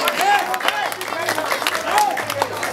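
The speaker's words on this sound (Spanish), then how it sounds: "quiero un poderoso aplauso para ustedes mismos" A crowd applauds at a neighborhood association's Christmas dinner, a steady wash of clapping of moderate loudness with voices and shouts mixed in.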